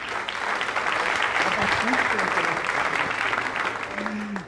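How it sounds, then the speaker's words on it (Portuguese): Church congregation applauding to welcome a young man, a dense steady wash of clapping throughout, with brief voices or tones rising above it. "Dê uma salva de palmas bem bonita para esse jovem."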